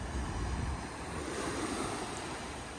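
Sea waves wash ashore at the seaside on Nan'ao Island, a steady, broad surf roar with some wind, heard alone and with no voices.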